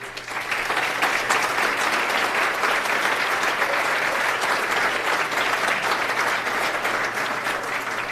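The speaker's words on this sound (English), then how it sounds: "How about one final round of applause for all of the folks today." An audience at a business awards ceremony gives a final round of applause, a full, steady clapping texture that swells quickly and stays loud for several seconds, with a low steady hum underneath.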